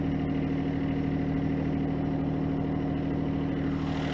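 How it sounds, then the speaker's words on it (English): A snowblower engine runs at a steady idle outdoors in cold weather, a constant low rumble without pauses or changes in pitch. "is putting on the snowblower even though there's no snow"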